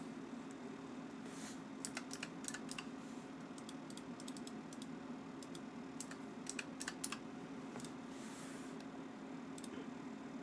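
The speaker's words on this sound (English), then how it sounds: "Let me just type here." Quiet typing on a computer keyboard: a steady patter of light key clicks in small irregular bursts over a low background hum, with no voices.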